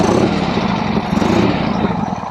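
A Harley-Davidson Ironhead Sportster motorcycle engine runs close by with a steady, low, rough rumble and slight pulsing throb, heard alone.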